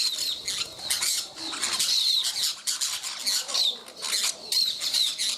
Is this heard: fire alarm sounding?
no